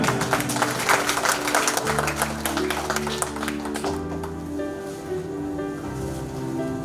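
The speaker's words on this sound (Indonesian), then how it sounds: "Mohon tepuk tangan Bapak Ibu semuanya." An audience at a market inauguration ceremony claps, a dense patter of applause that thins out halfway through while low music or hum continues underneath.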